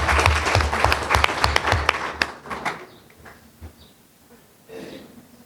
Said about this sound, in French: pour ce choix qui a été porté sur Mme Gueye, que je vous demande effectivement d'applaudir.